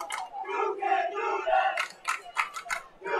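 Crowd at a high school football game at John Barbo's Stadium on Wheaton Field, a mid-distance roar of many voices with shouted calls and rising bursts of cheering, continuous over the whole stretch.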